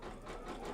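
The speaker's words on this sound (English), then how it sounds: "And then we're going to stitch this one down" An embroidery machine hums steadily while stitching down a fabric strip on an in-the-hoop chevron log cabin quilt block, a faint, continuous mechanical whir lasting under a second.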